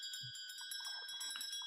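Several house bells ring together in an old dwelling, a steady high metallic ringing with sustained tones and repeated strikes that continues evenly throughout, fairly quiet, with no voices.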